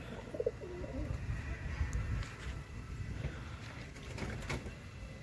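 Domestic pigeons, some recovering from a cold, give soft low cooing close by, a continuous murmur of overlapping calls over faint background noise.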